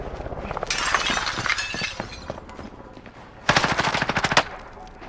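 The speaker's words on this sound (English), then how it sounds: "I'm taking fire!" Automatic gunfire in the video game Call of Duty: Warzone rattles out in rapid bursts, with one long volley early and another sharp, louder burst near the end, alongside crackly breaking impacts and no talking.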